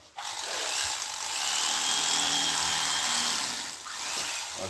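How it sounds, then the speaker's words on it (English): Electric turkey carver knife slicing down through car seat foam, a steady whirring buzz that starts abruptly and holds at moderate level, dipping briefly near the end. "That ain't nothing but what I call a turkey carver knife."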